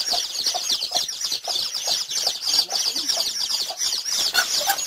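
Bantam chickens cluck and peep steadily, a busy overlapping chatter of small birds close by, without talk.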